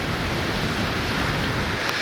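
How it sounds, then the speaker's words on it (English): Strong wind gusting across a tropical island beach in Fiji, a steady broadband roar buffeting the microphone, loud and continuous with no break. "It's a really windy day."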